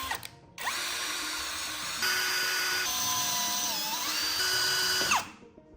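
A power drill tapping M4 metric threads into holes gives a loud electric whine that starts abruptly, shifts pitch several times mid-run, bends in tone as it loads, then winds down and stops.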